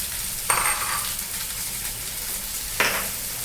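Oil frying with tomato in a pan for momo chutney makes a steady close sizzle, with two sharper bursts of crackle where ingredients drop in or are stirred, no voices.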